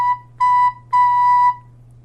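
A recorder sounds the note mi three times in a steady pure tone: a short note, another short one, then a longer held one, close and clear with no talk.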